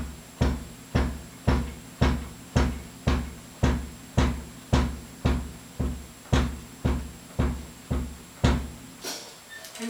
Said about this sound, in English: And what we want to do with the bass drum is feather it.